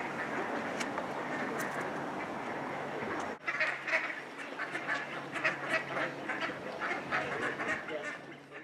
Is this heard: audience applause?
no